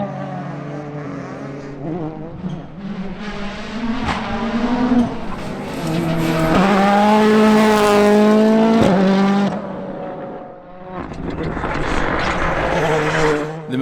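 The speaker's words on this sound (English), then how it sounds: "Aaron McLaughlin must have the WRC car turned up to 11, and he's mounting a serious attack" WRC rally car at a winter rally event in Shackleton, driven hard at speed. The engine note rises and falls through gear changes and peaks in a loud, close, high-revving howl as it passes, with a commentator talking over it.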